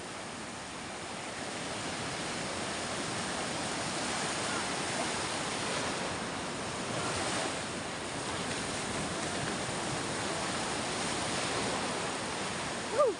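Ocean waves at sea make a continuous, wind-blown rushing roar with gentle swells in loudness, ending on a brief sharp knock.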